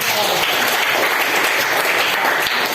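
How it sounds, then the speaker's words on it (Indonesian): A classroom of students claps together in steady, loud, continuous applause that fills the room for the whole moment. "Baiklah, kasih aplaus dulu."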